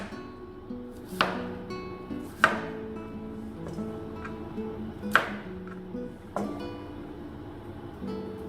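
Cauliflower chopped into bite-sized pieces on a board: a handful of sharp knife strikes at irregular intervals, with softer cutting and shuffling between them, close and clear, no talking.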